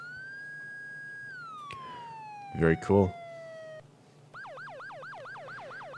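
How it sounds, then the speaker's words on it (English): Alternate tones of an Epsilon electronic police siren in Garry's Mod Photon 2: a long steady wail sliding down, then a fast rising yelp repeating in quick regular cycles, loud and close, with a brief spoken remark and a short burst of noise between. "we're going with the alternate tones of the Epsilon today, which sounds like this"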